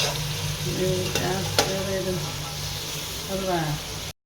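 About a kilo of mutton cooks in a pot for Mandya-style biryani, stirred with a steady scraping sizzle and a couple of sharp utensil clacks, close and continuous throughout.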